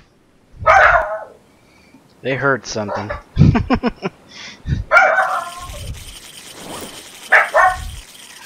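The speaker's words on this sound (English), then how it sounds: "The dogs went off" Two pet dogs bark in short, sharp bursts at several points, close by and loud, with a person talking and scolding them in between.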